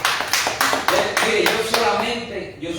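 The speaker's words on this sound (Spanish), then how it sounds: "denle un aplauso" A church congregation breaks into applause, a burst of rhythmic, fairly loud clapping heard under a speaking voice.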